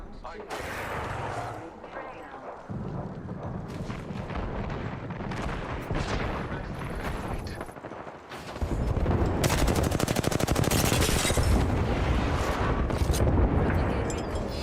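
Rapid bursts of automatic gunfire from an Apex Legends arena match, dense and continuous, growing louder and heavier in the second half with overlapping shots and impacts.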